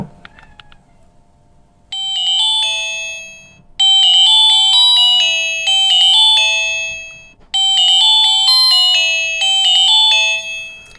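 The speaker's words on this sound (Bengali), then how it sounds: "রিংটোনের সাউন্ডটা কিন্তু মোটামুটি জব্বর পাবেন" A loud, bright electronic ringtone melody of beeping tones from a LAVA A3 Power button phone plays in repeated phrases, pausing briefly between them.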